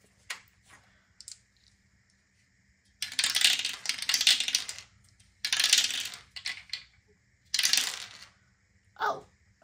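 Dice are tossed onto a hard surface in several separate rolls, each one a short burst of clattering, rattling tumbles close by, with quiet gaps between the rolls.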